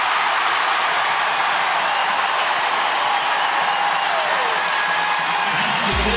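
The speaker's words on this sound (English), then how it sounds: "The crowd was just waiting to make a little noise." Basketball arena crowd at an NCAA women's tournament first-round game roars after a made basket and-one, a steady dense wash of cheering and noise filling the whole span, loud and continuous.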